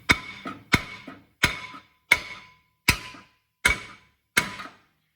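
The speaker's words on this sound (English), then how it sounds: "or I'll go around and hit the rotor." Seven sharp metallic hammer blows strike a rusted front brake rotor on a 2013 Hyundai Sonata, evenly spaced about two-thirds of a second apart, each ringing briefly and decaying, loud and close with no talk.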